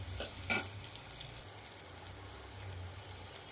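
Chopped onions, green chillies and a bay leaf fry in oil for a duck curry, a soft steady sizzle with a faint stirring scrape near the start, quiet and without talk.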